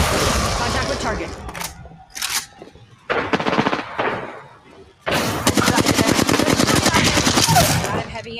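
Grenade blast and rapid gunfire in a video game, dense bursts of shots and booms coming in several loud waves with short gaps, with voice chatter mixed in.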